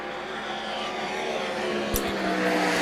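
A short stretch of sprint car engines roars on the Knoxville Raceway dirt track at an All Star Sprints meet, a steady distant drone that grows a little louder toward the end.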